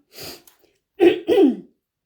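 Three quick coughs, one short and light followed by two louder, rougher bursts close together, with silence around them.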